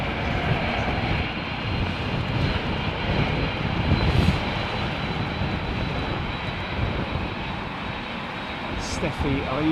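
British Airways flight BA 115 taxis out, a jet's engines giving a continuous, even whine and rumble at moderate distance, with people talking over it.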